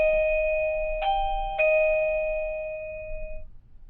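A wireless doorbell receiver plugged into a wall socket plays a clear two-note chime, bright and close, ringing out and fading in an otherwise quiet room.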